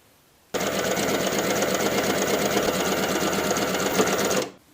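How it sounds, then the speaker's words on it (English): A sewing machine runs steadily for about four seconds, zigzag stitching to finish raw fabric edges together on an upcycled tank top, with a dense, continuous whirring drone that starts and stops abruptly. "For my raw edges, I chose to finish those edges together using a zigzag stitch."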